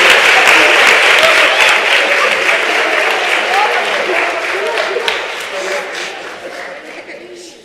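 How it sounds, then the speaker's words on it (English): A school concert audience gives a warm, full round of applause after a middle school band and choir performance, steady loud clapping that gradually thins and fades near the end. "Will you please give them a round of applause?"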